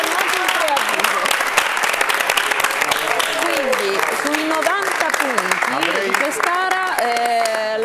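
Applause from a studio audience cheering the winning school class, a fourth-year group from a scientific high school in Pescara, after a quiz contest; dense steady clapping throughout, with a presenter talking over it.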